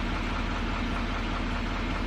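An L5P Duramax diesel truck engine idles at about 750 RPM during a regen cycle, producing a steady, close, loud rumble with no talking.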